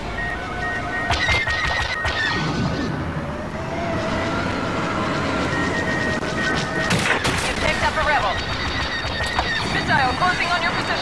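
Rapid bursts of blaster fire from a starfighter in Star Wars Battlefront's fighter squadron mode rattle over a steady engine roar, with several distinct volleys close and loud throughout.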